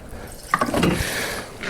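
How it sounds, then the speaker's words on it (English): Fuel poured into a snowmobile carburetor gives a short liquid trickle and splash that swells briefly, then tails off, up close. "we'll pour a little bit more in the carb."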